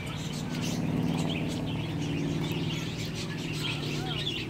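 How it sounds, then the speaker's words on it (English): Parakeets at a zoo aviary chirp in a dense, continuous flock chatter, with faint high calls layered over a steady low background hum and crowd noise. "I love parakeets."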